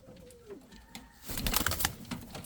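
Pouter pigeons cooing in a loft, a low soft coo near the start, then louder flapping and rustling with overlapping calls.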